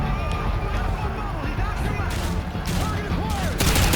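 Gunfire in Call of Duty Modern Warfare 2, a steady roar of shots and bursts under dense game noise with people talking throughout, growing louder near the end.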